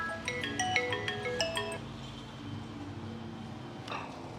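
A mobile phone rings with a bright, melodic electronic ringtone, a quick repeating run of tones lasting about two seconds before cutting off, leaving a quiet room.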